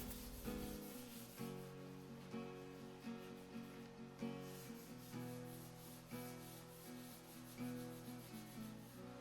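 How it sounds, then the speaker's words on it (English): A wooden cornhole board is sanded with very fine sandpaper before clear coat, giving quiet rhythmic rubbing strokes, roughly one per second, each rising and fading in a steady back-and-forth pattern. "I come back out here the next day with some really fine sandpaper and go over this stuff"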